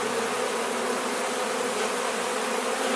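Honey bees buzz steadily around a beehive, a dense, even drone of many wings that stays loud and close, with no gaps and no voices.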